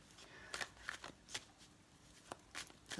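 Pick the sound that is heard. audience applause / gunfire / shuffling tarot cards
shuffling tarot cards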